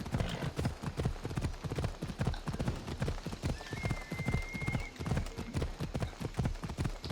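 Horse hooves clip-clop in steady rhythmic beats inside the video game Assassin's Creed Odyssey, with a brief whinny partway through over a continuous game soundscape.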